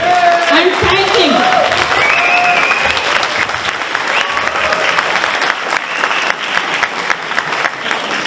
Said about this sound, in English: Give Senator Jim Runstead as a big applause.